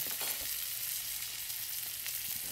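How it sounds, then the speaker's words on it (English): Meat sears in a hot pan in a restaurant kitchen while preparing Asian-inspired dishes, a steady close sizzle and crackle of frying fat running continuously with no talk over it. "So each side quick, just one minute. Nice sear on all sides."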